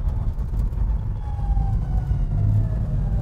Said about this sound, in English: I mean, it really sounds great downshifting.